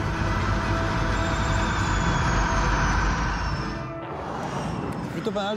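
A DS race car roars past on the track, a loud, dense rush of engine and wind noise that fades briefly toward the end, with a voice talking over it.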